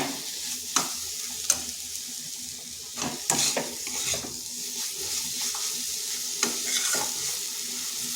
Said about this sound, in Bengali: এভাবে বেশ কিছুক্ষণ সময় ধরে নাড়তে হবে